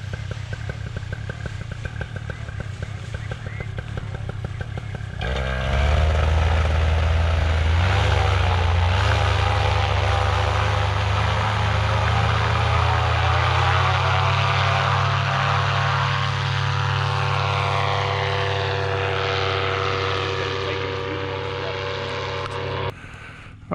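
A powered aircraft engine is opened to full throttle on a new pilot's first flight. A loud, droning buzz jumps up suddenly, then holds steady and rises slowly in pitch for many seconds before cutting off abruptly.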